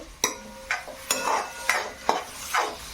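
Salted momo filling is mixed in a bowl, with about six separate scraping, slapping strokes in an uneven rhythm, close and fairly quiet with no voices.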